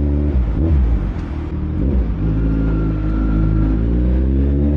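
A 1000cc motorcycle engine revs loud and close through quick shifts with auto-blip, the throbbing note rising and dropping in brief surges before settling into a sustained rumble.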